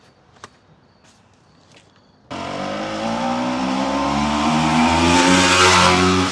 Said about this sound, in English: 500 cc's of twin cylinder 2-stroke